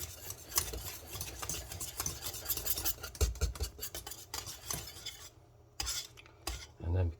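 A whisk works cheese into a béchamel sauce for croque monsieur, with a rapid, continuous scraping and clinking against the pan that pauses briefly near the end.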